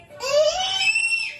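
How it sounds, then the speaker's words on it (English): A child gives a single high, piercing scream lasting about a second, close and loud, in a kitchen during cooking, with no other voices. "Sorry for the screaming noise."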